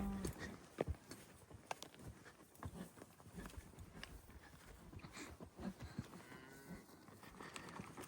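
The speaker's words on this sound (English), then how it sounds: "ready for the cows as they get put in this little pasture" Cattle being moved into a small pasture ahead of branding on a desert ranch, with scattered moos, hoof clatter and shuffling at a distance, faint and continuous with brief voices in the background.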